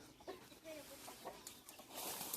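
Several short clucking, squawking guinea fowl calls scattered over a steady outdoor background, moderately close, with a brighter hiss building near the end.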